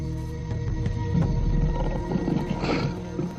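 A lion roars in the African bush, a deep, loud rumbling call that swells over about three seconds with a brief harsher burst near the end, heard close and alone with no talking.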